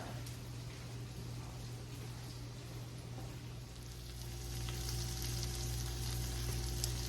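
Turkey burger patties frying in a pan alongside onions, a soft steady sizzle over a low hum that grows somewhat louder and denser partway through, with no talking.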